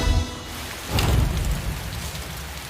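Heavy rain pours steadily as a dense broadband hiss with a low rumble, swelling louder after about a second and holding close and continuous with no voices.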